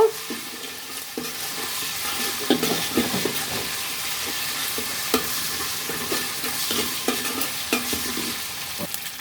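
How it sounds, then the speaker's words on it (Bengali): Ginger and garlic frying in oil with cardamom and cinnamon for pulao, a steady close sizzle with repeated scraping and stirring knocks throughout, no talking. "আদা রসুনটা কিন্তু আমি ভালো করে ভেজে নিব"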